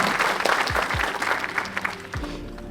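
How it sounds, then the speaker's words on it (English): An audience applauding in a hall, dense steady clapping from many hands that thins slightly toward the end, with a few low thumps underneath. "A round of applause for each one of us here sitting in this hall"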